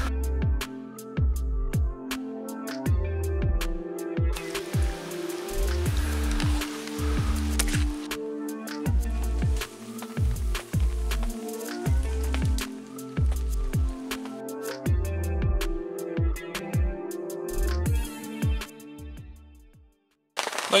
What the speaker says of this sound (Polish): Cały dzień pada